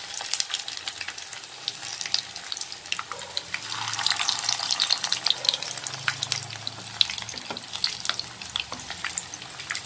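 Sweet corn kebabs fry in hot oil in a pan, giving a steady bright sizzle with crackling pops throughout, and there is no talk.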